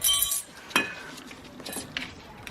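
Metal brake pad slides popped off the rear caliper carrier of a 2011-2013 Hyundai Sonata Hybrid: a bright metallic clink at the start, another sharp click shortly after, then softer light tinks, close and alone.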